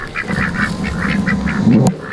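Ducks fresh out of the water beside a full pond quack steadily in a lively, overlapping chatter, loud and close, with a brief sharp knock near the end.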